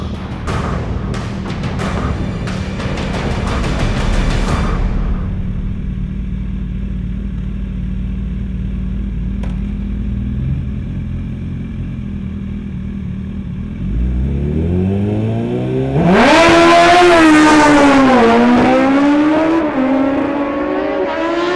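A Kawasaki Ninja ZX-14R on a quarter-mile drag strip gives a few sharp throttle blips, then idles at a steady rumble. A loud, close launch follows, its engine pitch climbing and dropping through gear shifts.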